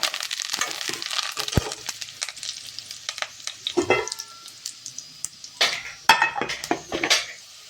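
Onions frying in a pan with greens, a soft continuous sizzle broken by repeated stirring scrapes and clinks of a spoon against the pan.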